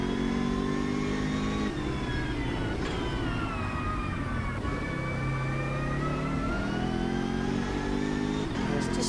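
A BMW M6 in the racing game Automobilista 2 at Bathurst revs loudly, its engine note climbing and dropping through several gear changes in a continuous, close, buzzy drone with no voices.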